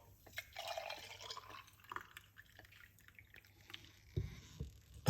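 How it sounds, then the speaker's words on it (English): Beetroot juice trickles and drips as it is poured from one cup into another, a soft, intermittent liquid sound at close range in a quiet kitchen, ending with a louder splash. "we're going to simply just pour it out into another cup"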